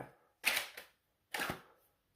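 Two sharp blasts from a HeatwaveStudios Ice Phoenix toy blaster, each a loud burst with a short trailing rattle, spaced about a second apart, with no talking.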